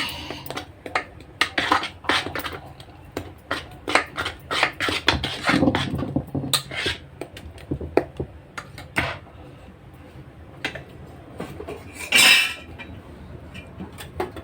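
Fermented batter for Malvani dosa (ambolya) stirred in a metal vessel, a busy run of scraping, clinking and tapping strokes, close and irregular, with no speech.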